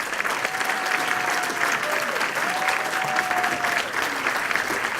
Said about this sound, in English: Please join me with a round of applause for Jeff Engel, James Loveridge, Sean Foster